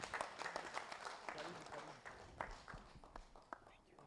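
Scattered clapping from a conference audience in Africa during an afternoon session, uneven and moderately loud, with voices chattering under it.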